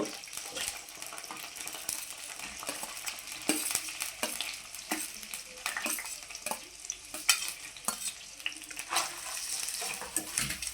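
Sliced onions sizzle and crackle steadily in hot oil for vankaya dosakaya roti pachadi, with occasional stirring scrapes in the pan and no talking.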